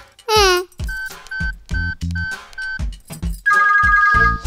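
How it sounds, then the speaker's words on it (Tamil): A mobile phone ringtone for an incoming call plays as a melodic electronic tune in repeating phrases, loud and close, with voices talking around it in a Tamil crime thriller. "ஏய் கால் வருது பாரு"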